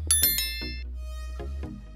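A notification bell effect plays: several bright metallic dings struck in quick succession, each ringing on with a clear tone, then two more chimes after a short pause.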